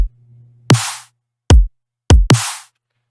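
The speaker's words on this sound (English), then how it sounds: "I can start with the drums because they're super simple." Drum samples in a bass drop production: a short low tone followed by three punchy, sharply decaying kick-and-noise hits spaced irregularly, close and dry with no voices.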